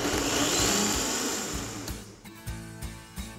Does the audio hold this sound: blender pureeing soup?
yes